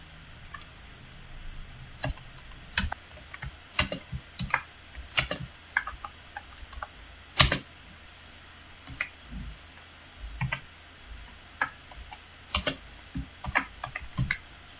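Keys clatter on a computer keyboard while code is entered, irregular clusters of sharp taps and single clicks spread over the whole stretch, close and fairly clear with no speech.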